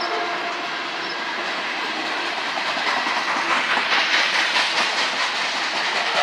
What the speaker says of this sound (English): Looks like there's a train race.